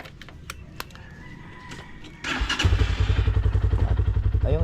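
A motorcycle by the sea, first light thumps and clatter as it is turned around, then the engine starts and runs with a loud, pulsing idle that stays close.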